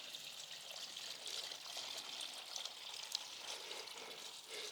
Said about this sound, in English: get your watering can. Then just water it.